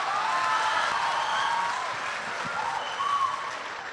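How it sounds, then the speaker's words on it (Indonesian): An audience applauds a man named Pak Abdi at an event, a dense, steady wash of clapping that fills the room and tapers slightly toward the end, with no talk over it. "Aplaus dulu untuk Pak Abdi."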